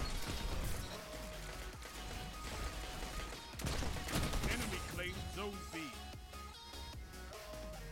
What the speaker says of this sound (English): I hear the shotties